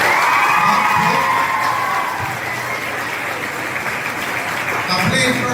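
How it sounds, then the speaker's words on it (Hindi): An audience at a college celebration of 150 years of Vande Mataram breaks into loud applause with cheering and whoops, a dense, sustained roar of clapping from a large crowd, with shouted voices mixed in. "तो इसके लिए और एक बार जोरदार तालियां बजाएं।"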